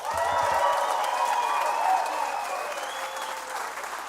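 An audience applauds a performer's arrival at a live music venue, with loud, dense clapping that tapers off as a singer's voice and music rise over it.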